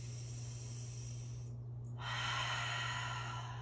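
A slow, audible breath during a standing yoga lunge, a soft airy exhale swelling in the second half over a steady low background hum, close and alone without talk.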